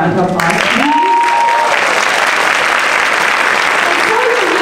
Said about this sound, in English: Can we give them a warm round of applause?